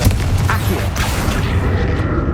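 A Confringo explosive spell from Hogwarts Legacy detonates, with a cluster of booming blasts and bursts over a rumbling game backdrop, followed by crackling debris.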